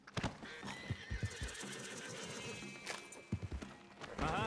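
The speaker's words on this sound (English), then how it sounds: "My favorite horse." A horse whinnies loudly in Red Dead Redemption 2, close by, with hoof thuds and game ambience around it and a second whinny near the end.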